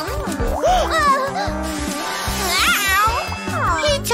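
A cartoon cat meows repeatedly in bright, rising and falling cries, several in a row, mixed with a busy children's show soundtrack and possible voices.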